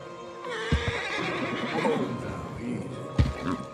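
A horse whinnies loudly and close in Red Dead Redemption 2, a drawn-out neigh with a few hoof thuds and snorts around it, no speech.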